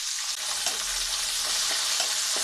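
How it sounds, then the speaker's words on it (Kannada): Sliced onions fry in hot oil for a tempering in a curry-leaf rice dish, a close, steady hiss and crackle with faint stirring. "ಈ ಈರುಳ್ಳಿ ಸ್ವಲ್ಪ ಚೆನ್ನಾಗಿ ಕೆಂಪಾಗೋವರೆಗೂ ನಾವು ಅದನ್ನು ಹುರ್ಕೋಬೇಕು"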